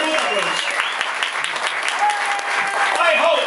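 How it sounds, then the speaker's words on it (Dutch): A crowd applauds the champion at a cycling race prize ceremony, sustained loud clapping with voices and chatter mixed through it and occasional whistles or tones rising above. "Een groot applaus!"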